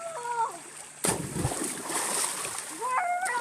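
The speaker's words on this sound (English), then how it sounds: "Good splash." A single sharp splash in swimming water, loud and close, set between excited children's shouting before and after.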